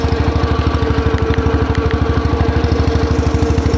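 A garden tractor engine runs close by with a fast, steady pulsing beat and a light rattle riding on it, loud and continuous with no one speaking.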